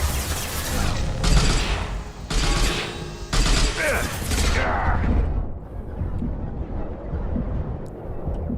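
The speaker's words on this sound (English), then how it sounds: "Taking heavy fire." Heavy gunfire in Mass Effect 2, loud bursts of rapid automatic shots that come in several clustered volleys over the first few seconds, then give way to a lower rumbling din as the firing stops.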